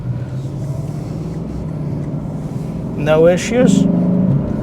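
A 2024 Lexus IS 500 F Sport accelerates to merge into traffic, its engine a low rumble that swells near the end as a person speaks briefly over it.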